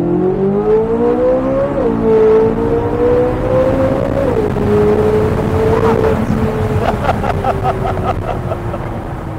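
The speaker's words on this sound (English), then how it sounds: "You hear those downshifts, dude? Like a cannon." A Corvette Z06 engine with an Eventuri intake and Paragon Performance exhaust revs loudly and close, its pitch climbing then dropping in quick downshifts, ending in crackling pops from the exhaust.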